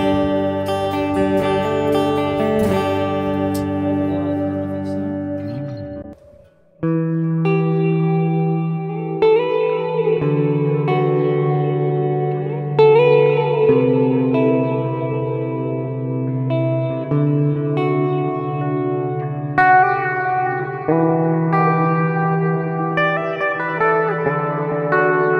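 Electric guitar played through effects with the bridge and neck pickups combined, sustained chords and single notes ringing with reverb and echo, with a brief pause near the start and no talking.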